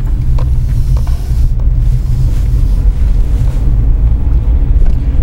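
A car turns slowly through a residential cul-de-sac, heard from inside as a steady, loud low rumble with faint wind noise throughout.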